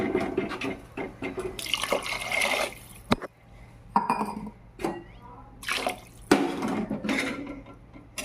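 Water is poured glass by glass into a cooking pot of Andhra-style gongura pulao with sorrel leaves, giving several separate splashing pours broken by short pauses and clinks.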